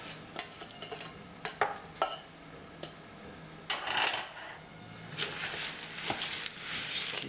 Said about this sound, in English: Just keep mixing here.